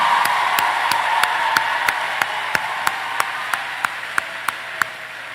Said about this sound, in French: Prêtez main pour m'applaudir.